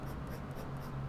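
A Sailor Professional Gear fountain pen nib scratches across paper in short cross strokes, a faint, close, dry scraping with a slight rhythmic pulse, heard alone.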